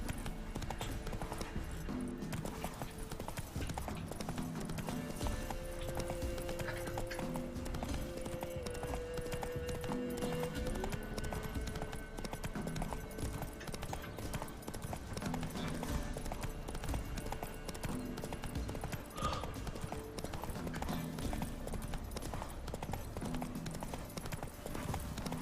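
The horse Roach gallops in The Witcher 3 video game, hooves pounding in a fast continuous rhythm over a dense, steady game soundscape.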